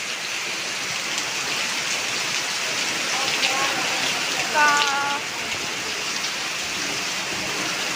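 Heavy afternoon rain pours down on a road, a loud, steady wash of hiss and patter throughout, with people talking briefly over it midway.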